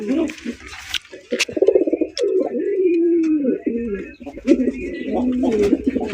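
Pigeons coo in low, rolling murmurs, close by, with a few sharp clicks and rustles scattered among the calls.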